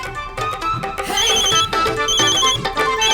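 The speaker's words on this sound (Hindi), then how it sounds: "फोन किसका है?" A telephone rings with a bright, repeating electronic trill, loud and close, continuing steadily throughout with no voices.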